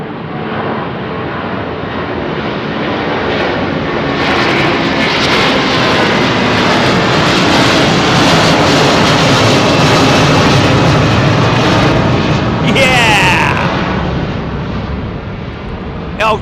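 A Sri Lankan Airbus A330 with Rolls-Royce Trent 700 engines departs London Heathrow's runway 09R, its loud, sustained jet roar and low rumble holding steady throughout, with a brief higher whine near the end.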